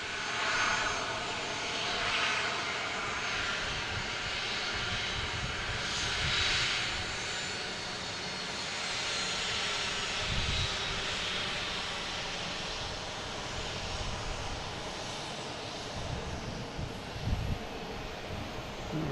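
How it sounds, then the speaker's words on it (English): Alaska Airlines jet engines run in the taxiway alley at Boston Logan International Airport, a continuous droning roar heard from some distance with light wind, holding steady and rising now and then. "There's Alaskan in the alley here making a little racket."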